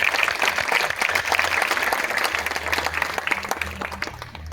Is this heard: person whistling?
no